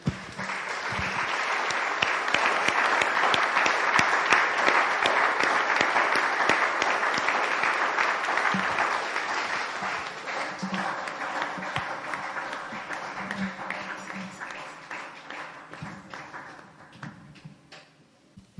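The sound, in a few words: congregation applauding as an offering of acclaim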